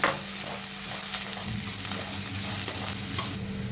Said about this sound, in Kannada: ಈಗ ಇದನ್ನು ಆನಿಯನ್ನ ಸ್ವಲ್ಪ ಫ್ರೈ ಮಾಡ್ಕೊಳ್ಳೋಣ